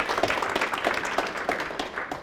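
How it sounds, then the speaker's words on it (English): Conference audience applauding at a hypnosis convention keynote, a dense crowd of hand claps with a few sharp individual claps standing out near the front, steady and moderately loud. "A round of applause for Karma on that one"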